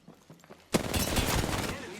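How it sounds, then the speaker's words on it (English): Enemy gunfire aimed at the player in a shooter game erupts suddenly after a quiet moment into a sustained, dense burst of shots, close and loud. "Enemies are shooting at me."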